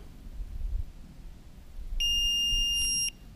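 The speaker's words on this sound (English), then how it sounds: "hold down the plus button until you hear the beep" A Pro-Find metal detector gives a single clear electronic beep lasting about a second as its tone ID mode is activated, heard alone over faint background noise.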